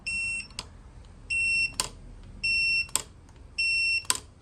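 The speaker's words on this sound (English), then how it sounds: "So I got my voltmeter set to continuity with an alarm." A voltmeter set to continuity mode sounds its alarm while testing a pressure switch on a 1979 Shovelhead motorcycle, four sharp electronic beeps in a regular rhythm, each followed by a click, loud and close.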